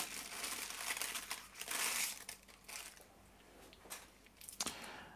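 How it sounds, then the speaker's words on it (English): Tissue paper wrapped around replacement sunglasses lenses crinkles and rustles as it is unwrapped, close and continuous crumpling with a few sharper crackles. "They're packed well in tissue paper."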